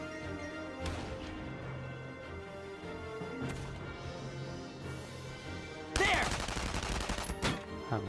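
Gunfire in the video game Valkyria Chronicles 4 crackles in scattered shots over a busy background, then erupts into a loud, dense burst of rapid firing near the end.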